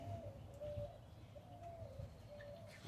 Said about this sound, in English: Pigeon là.